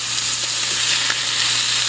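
Chicken fries in a skillet with a steady, bright sizzle and crackle, close and fairly loud, holding even throughout without any talk.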